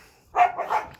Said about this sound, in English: You have to excuse my dogs in the background.